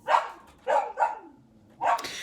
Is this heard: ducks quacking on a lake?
no